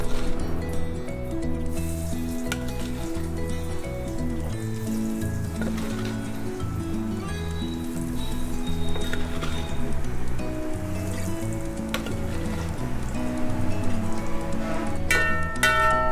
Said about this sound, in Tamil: 1 by 1 இந்த எண்ணெயில் போட்டு நம்ம ஃப்ரை பண்ணி எடுத்துடலாம் பன்னீர்ஸை